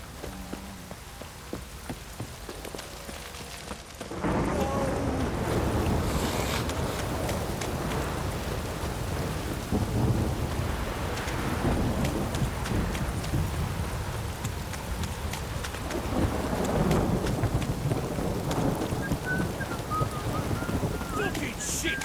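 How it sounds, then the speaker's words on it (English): A heavy downpour hisses and drums in The Witcher 3, rising sharply after a few seconds. Horse hooves clop through it and people talk over the storm. "This downpour's a bastard,"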